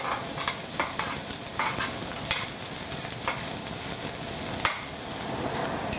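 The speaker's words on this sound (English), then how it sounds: "Then add garlic and fry for another 30 seconds." Ginger and garlic fry in a hot pan for a stir-fried gai lan dish, giving a steady close sizzle with occasional stirring scrapes and clicks throughout, no voices.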